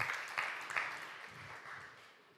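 An audience applauds the news of a newborn baby, a brief burst of clapping that starts loud and gradually thins and fades over a couple of seconds.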